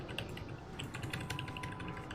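Rapid clattering keystrokes on a computer keyboard, a quiet, busy stream of key clicks with no talking.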